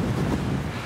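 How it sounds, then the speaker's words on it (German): Strong wind buffets the microphone on a mountain summit, a loud, continuous roaring rush with no talk during the brief moment. "Der Wind, ha?"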